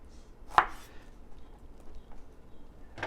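Food cut into bite-sized pieces on a board for shrimp skewers: one sharp knife chop stands out near the start, followed by a faint second knock at the end, over a quiet room.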